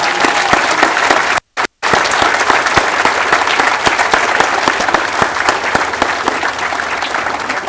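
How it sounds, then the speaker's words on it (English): Loud, dense applause fills a graduation ceremony hall at Perry Technical Institute as the audience claps for the graduating students, steady throughout with one brief dropout near the middle. "Let's give them a round of applause."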